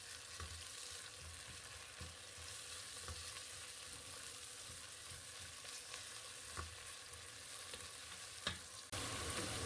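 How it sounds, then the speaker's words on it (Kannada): Chopped tomato fries steadily in hot oil in a pan for a chickpea pulao, a constant soft sizzle with faint stirring clicks throughout, growing slightly louder near the end. "ಅದನ್ನು ಅಷ್ಟೇ ಸ್ವಲ್ಪ ಫ್ರೈ ಮಾಡ್ಕೊಳ್ಳೋಣ"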